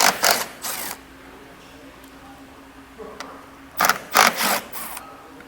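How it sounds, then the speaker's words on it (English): A ratchet wrench with an 8mm socket removing bolts on a 2026 Ford Escape: two short bursts of rapid ratcheting clicks, the first at the start and the second near the end, separated by a quiet stretch. "I'm going to use an 8mm socket"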